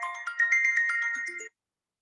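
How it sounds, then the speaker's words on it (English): A phone ringtone plays a quick, bright electronic melody of repeated chiming notes for about a second and a half, loud and alone, then stops abruptly into silence. "Let me stop the phone from ringing."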